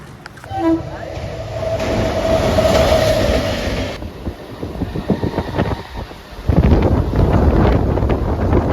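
Rolling noise fills the inside of a moving Mumbai local train, with steady rumble and clatter, wind buffeting the microphone, and a distant train horn early on, loud and continuous with a surge near the end.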